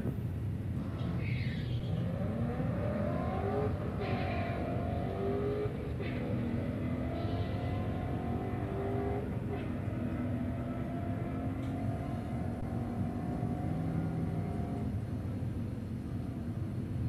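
Drag racing cars on a strip at a Wednesday night drags event, engines revving and rising in pitch as cars launch and accelerate away, heard from a distance under a constant roar of crowd and track noise.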